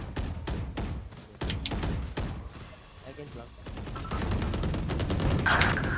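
Rapid bursts of gunfire from the tactical shooter Valorant, repeated sharp shots in clusters through the first half, then denser firing later, with game sounds layered throughout and no speech over it.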